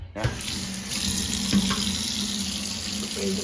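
Water runs steadily from a kitchen faucet fitted with a newly installed flexible hose into a sink, a close, continuous splashing hiss that starts abruptly and carries on evenly.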